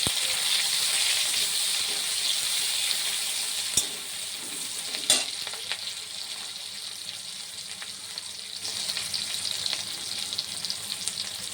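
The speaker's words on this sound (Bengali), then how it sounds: "পেঁয়াজের সাথে এগুলো ভেজে নেব।" Chopped onion and white elephant foot yam fry in a pan with a steady bright sizzle, broken by a few sharp clacks of stirring.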